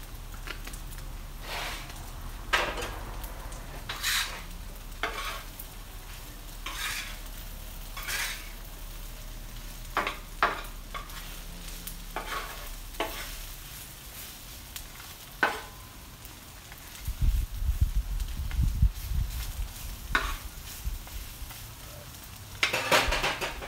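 French fries sizzle on a Blackstone griddle, a faint steady frying hiss broken by scattered scrapes and taps of a utensil, with a louder burst of stirring and clatter near the end.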